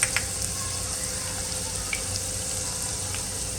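Asafoetida and garlic crackle in hot oil over mustard seeds and cumin, a bright steady sizzle with a few sharp pops at the start, close and continuous, a faint hum beneath.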